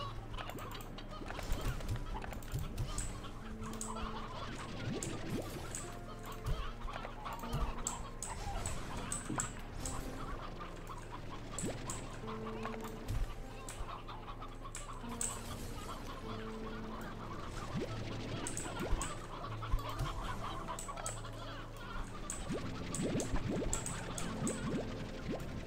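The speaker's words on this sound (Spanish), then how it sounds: "A tope con la producción de gallinas." Chickens on a ranch in the video game Slime Rancher 2 cluck over and over in short, repeated bursts, with busy game sounds running underneath throughout.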